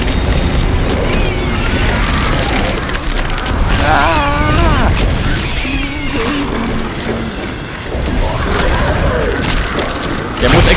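Loud explosions and mechanical clatter in the video game Dead Space dominate, with rumbling booms and grinding noises running continuously over several seconds.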